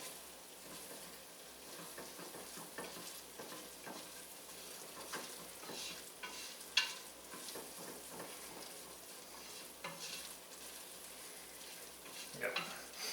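A flour roux for lobster bisque cooks in a pan, giving a steady quiet sizzle with soft scraping and pushing sounds from a utensil stirring it throughout.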